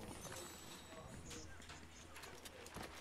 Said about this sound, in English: I heard a few footsteps here.